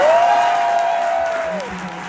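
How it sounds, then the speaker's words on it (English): Crowd applause for Mike Shinoda at an intimate Q&A event in Sydney, a swell of clapping and cheering with a held whistle or voice tone on top, fading slightly toward the end. "you're about to hear so with the applause for Mike Shinoda"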